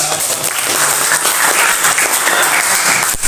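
Close, loud applause from a class of eighth-grade students, dense and steady for the whole stretch with no talk over it.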